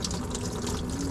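Coolant draining from a Chevy Silverado 1500 during water pump removal, caught in a container: a steady, close trickle and splash of liquid running continuously at moderate level, no talk.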